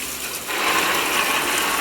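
Two bathtub taps run together, giving a steady, close broadband rush of flowing water that gets louder as the second tap opens, with no talking.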